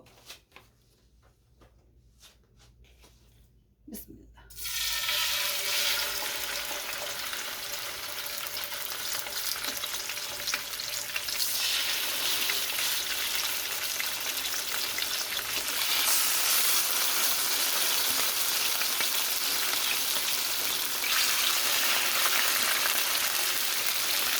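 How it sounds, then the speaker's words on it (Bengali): Salmon fillets frying hard in a pan, a loud, steady crackling sizzle bursting in after a few quiet seconds and continuing without a break, with no talking over it. "প্রথমে আমি ফিশগুলি ভেজে নিব"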